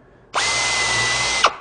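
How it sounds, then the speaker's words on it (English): A power drill bores through metal aircraft structure using a drill guide during nutplate installation, one loud steady whine that starts abruptly and runs about a second before cutting off, up close with no talking. "Drill through."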